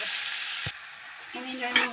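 Kidney beans (rajma) go into a hot oiled pan and fry with a bright, continuous sizzle, punctuated by a brief thump and a short voice near the end.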